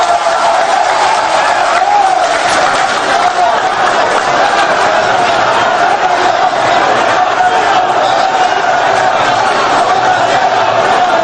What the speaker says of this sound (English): Honorable Johnson Asiedu Nketia, with a huge round of applause, please.